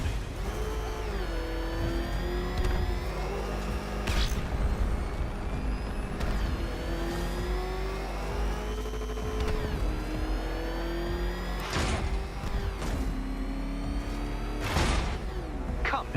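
A ramshackle car engine drives in Batman: Arkham Knight, a steady game-engine drone with shifting pitch throughout and a few sharp hissing bursts over it, loud and continuous with no talk.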